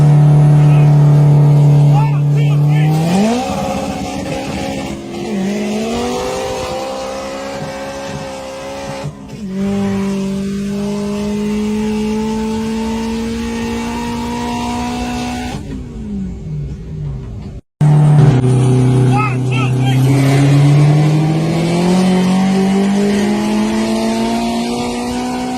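Honda import drag racing a stock Dodge Hellcat, engines revving loudly with rising gear-change sweeps and a brief cut, with tire noise throughout and talk over the roar.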